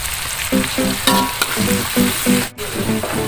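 Water poured into a hot frying pan for tahu kuning, a loud burst of steam sizzle that hisses on, with a rhythmic clatter of stirring beneath and one brief dropout.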